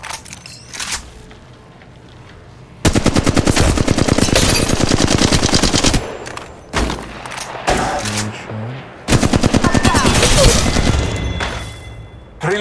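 Machine gun fire in a video game battle, long loud sustained bursts of rapid shots separated by brief pauses, with a few scattered single shots and talk in the quieter gaps.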